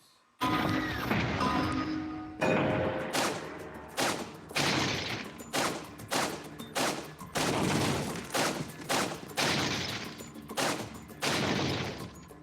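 Repeated pistol shots ring out during gun training in Resident Evil 4 VR, a loud series of about a dozen sharp cracks in an uneven rhythm, close and alone with no talking.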